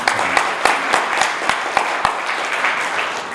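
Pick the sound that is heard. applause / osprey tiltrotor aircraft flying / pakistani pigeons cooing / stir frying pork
applause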